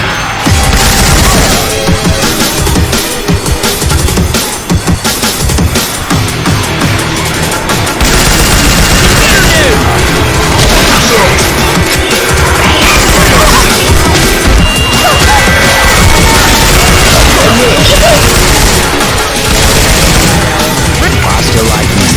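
Gunfire from Syphon Filter weapon sound effects fills a Left 4 Dead 2 match. Dense, rapid volleys of shots run without a break for over twenty seconds, mixed with crashing impacts, all loud and close.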